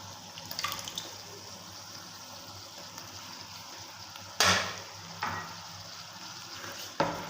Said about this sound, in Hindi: मसाले को हम अच्छे से भून लेंगे